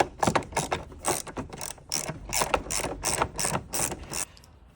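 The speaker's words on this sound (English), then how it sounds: "Now I'm using my little socket with an extension ratchet." A socket ratchet on an extension loosens the air filter housing screws of a second-generation Cadillac CTS. It gives a close, quick run of sharp ratcheting clicks in bursts with no talking.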